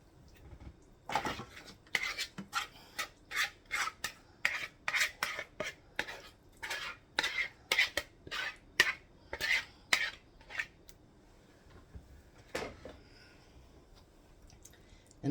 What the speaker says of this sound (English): So now we're going to pour that in the greased pan.